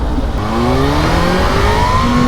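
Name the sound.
Kawasaki ZH2 motorcycle accelerating into a wheelie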